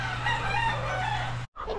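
A rooster crows loudly up close in a backyard chicken coop, a long drawn-out call, followed by a brief pause and soft clucking from nearby hens.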